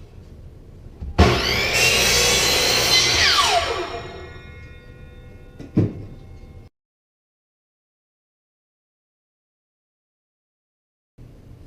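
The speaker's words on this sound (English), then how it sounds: "Let's go over to the sliding compound miter saw and cut out a couple of blanks." A sliding compound miter saw cuts wood blanks in a workshop. The motor spins up with a loud whine, the blade bites through the board for about three seconds, and the motor winds down, followed by a brief second burst and then silence.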